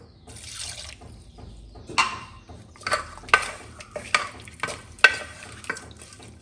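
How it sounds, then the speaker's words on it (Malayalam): Duck pieces being stirred with water in a pressure cooker for a Kerala-style duck roast, a run of close, sharp scraping and clattering stirs at an uneven rhythm over a low sizzling bed. "വെള്ളം ചേർത്ത് നന്നായി ഒന്ന് ഇളക്കി നമുക്കിത് ഒന്ന് വേവിച്ചെടുക്കാം."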